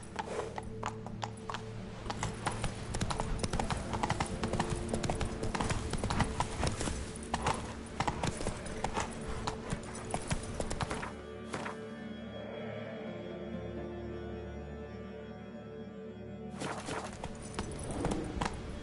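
Hooves of the horse Roach clip-clop steadily in The Witcher 3, a brisk, rhythmic trot heard up close, easing briefly in the middle before picking up again, with faint game ambience beneath.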